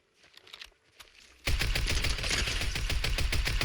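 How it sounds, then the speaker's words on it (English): Rapid rounds of grenade-launcher fire in Fortnite burst in loudly and continuously after a quieter opening, a dense rattling barrage of shots. "We've got somebody over there, and then somebody over here shooting grenades."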